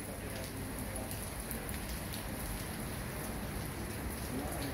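Steady rain falls on a wet morning, producing a dense, constant hiss of drops on surfaces with no letup.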